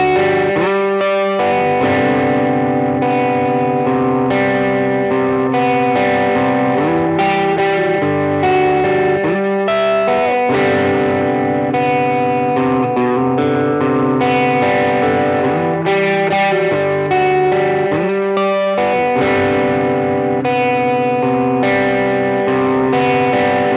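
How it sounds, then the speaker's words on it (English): Electric guitar in drop D tuning picking wide-interval chords as ringing arpeggios, with a chorused, effected tone; steady and loud throughout, notes overlapping continuously with no voices. "He arpeggiates these wide interval chords and it gives this beautiful sound."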